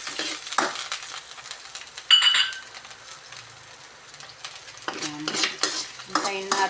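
Minced garlic dropped into a small amount of hot oil in a pan, giving a bright sizzle with spoon stirring and utensil clinks, bursts of scraping and sizzling alone without talk.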